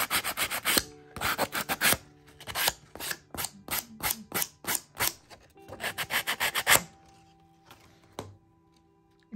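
Sandpaper rubbing along paper edges to distress them, heard as a close, brisk series of short rasping scrubs in two bursts before it trails off, with no talking.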